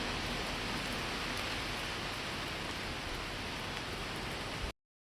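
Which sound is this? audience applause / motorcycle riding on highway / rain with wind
rain with wind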